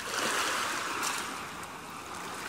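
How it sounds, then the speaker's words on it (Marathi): Ocean waves washing in as a steady, soft broadband hiss, a faint distant surf with one gentle swell and no voices. "मला समुद्राच्या लाटांचा आवाज फार आवडतो."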